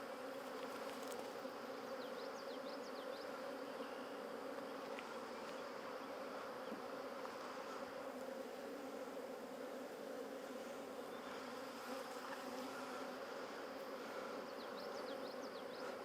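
Bees swarm over a brood frame during beekeeping, a dense, continuous buzzing hum close to the microphone with no talking.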